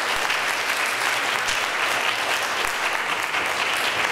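A church congregation applauds for fathers and men on Father's Day, loud dense clapping from many hands sustained evenly throughout.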